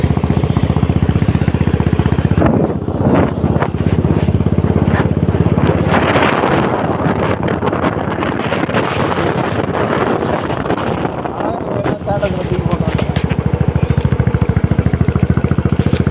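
A motorbike ridden uphill on a hill road for the first time, its engine droning steadily and loudly throughout, mixed with heavy wind buffeting the microphone and a few brief bursts of voices.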